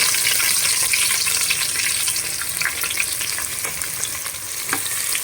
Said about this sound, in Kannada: 3 ಈರುಳ್ಳಿನ ಸ್ಲೈಸಾಗಿ ಕಟ್ ಮಾಡ್ಕೊಂಡು ಹಾಕ್ತಾ ಇದ್ದೀನಿ.